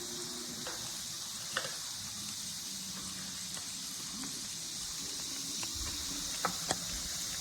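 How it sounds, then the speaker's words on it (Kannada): Potatoes are stirred in a frying pan for palya under a constant soft sizzle, with scattered faint scrapes and taps of a spoon against the pan. "ಈ ಥರ ಚೆನ್ನಾಗಿ ಮಿಕ್ಸ್ ಮಾಡಿ ಆಲೂಗೆಡ್ಡೆಯನ್ನು ಮಿಕ್ಸ್ ಮಾಡಬೇಕು."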